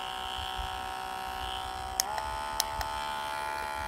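A blackhead vacuum remover runs with a steady electric buzz and hum, its pitch dipping slightly partway through, with a few brief clicks from button presses; close and continuous, no voices.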